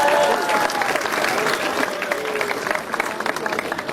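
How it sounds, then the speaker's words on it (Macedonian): A crowd breaks into loud, sustained applause at an outdoor school graduates' parade, with dense clapping that gradually thins. Voices mix in under the clapping. "Може ли еден громогласен аплауз да слушнам?"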